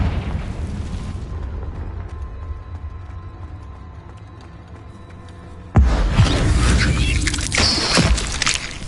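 Confringo fire spell exploding in the Hogwarts Legacy video game, a sudden loud boom with crackling debris after a quieter low rumbling stretch of game ambience.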